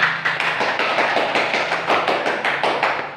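Pupils in a classroom clap their hands, producing a close, crisp burst of applause with a brisk, roughly regular pattern of tapping that carries on for a few seconds.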